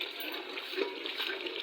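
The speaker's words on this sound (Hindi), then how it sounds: "तो थोड़ा सा और पानी डालती हूँ मैं।" Water is poured into a pot of cooking spinach and potato curry, a soft, steady splashing and trickle that stays fairly quiet and even, with no talk over it.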